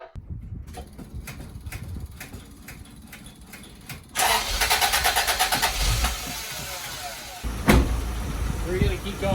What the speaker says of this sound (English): Let's start up this car.